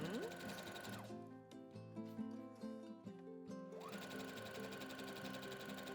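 Sewing machine stitching fabric, sewing back briefly to lock the seam; a steady motor hum with rhythmic needle clatter, a short stop-and-start burst of slower stitches in the middle, then a faster run again.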